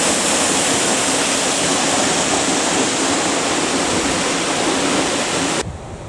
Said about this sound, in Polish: W centrum miasta mają nawet wodospad,